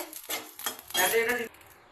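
Spices roasting in a pan for lemon pickle pop and crackle up close, with clinks of a utensil stirring and a brief sizzling burst before it quiets.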